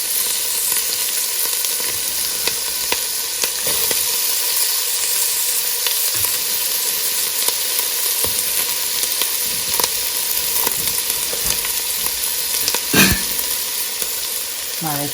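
Onions and garlic sizzle in a hot pan with a constant loud frying hiss, broken by occasional clinks and stirring scrapes.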